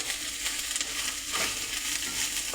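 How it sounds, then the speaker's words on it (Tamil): Mint leaves sautéing in oil give a loud, close, continuous sizzle, with soft stirring scrapes mixed in. "இதுவும் நல்லா பொன்னிறமாக வதங்கணும்"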